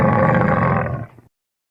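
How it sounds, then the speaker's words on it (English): A llama gives one short, low, rough, throaty call lasting about a second, close and fairly loud, fading out at the end. "That's right. It's a llama."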